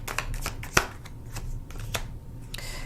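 Tarot cards are shuffled close up, a quick series of soft papery riffles and snaps with one sharper slap partway through, in a quiet room.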